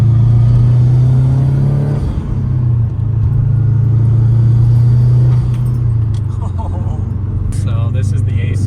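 Subaru WRX STI Type RA engine on a ride: a loud, steady low drone inside the car, swelling slightly with throttle, with faint muffled voices underneath.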